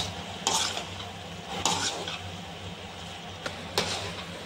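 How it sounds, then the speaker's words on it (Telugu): Masala with crushed green chillies and turmeric frying in oil in a pan, a steady close sizzle broken by a few sharp scrapes and clinks of a spoon stirring. "ఈ పచ్చి వాసన పోయినంత వరకు బాగా మసాలాని మగ్గనివ్వాలి ఫ్రెండ్స్"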